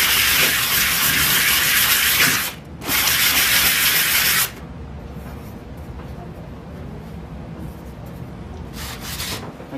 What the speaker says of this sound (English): with the 400 grit, just to sand her up.